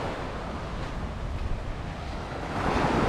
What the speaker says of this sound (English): Here we are at the famous Lamai Beach, but it is empty